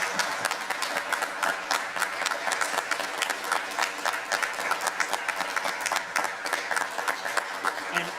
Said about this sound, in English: can you do a round of applause for all these women?